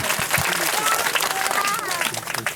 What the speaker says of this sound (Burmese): ကျေးဇူးတင်ပါတယ်လက်ခုပ်တီးအောင်